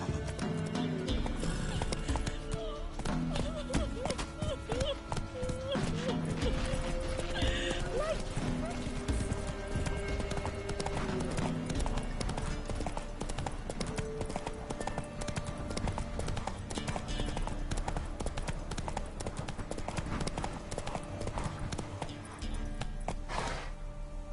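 Geralt's horse Roach in The Witcher 3 gallops with rapid, continuous hoofbeats and lets out whinnies, loud and close, with character voices speaking over the ride.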